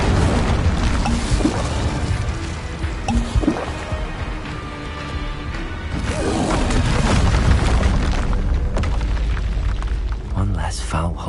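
Incendio and Confringo fire spells explode in the Hogwarts Legacy video game, with loud, dense booming blasts and crackling bursts filling the whole stretch, over game voices and music.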